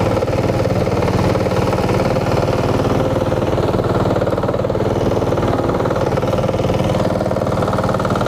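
Off-road vehicle engine running steadily and loudly close by as it drops into a deep rut, a continuous mid-pitched drone with rumbling vibration throughout and no talk.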